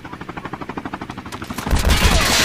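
Automatic gunfire in Call of Duty Mobile, a rapid regular stream of close, loud shots that gives way to a heavier burst of overlapping fire and explosive noise near the end.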